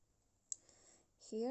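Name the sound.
mouse click on Spotify profile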